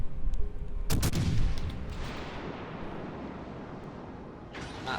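Gunfire strikes a warship in a naval combat video game, a sharp burst of impacts followed by a rumbling, decaying roar that fades over several seconds, with a brief second crackle near the end.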